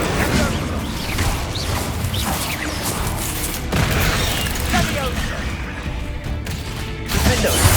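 In Hogwarts Legacy, an Incendio fire spell bursts out amid a steady roar of booms, crackling blasts and battle noise, dense and loud throughout with a heavier surge at the close.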